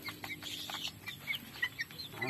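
Backyard chickens in a flock let out quick, overlapping clucks and brief high chirps, a busy close chatter of several hens with no voices.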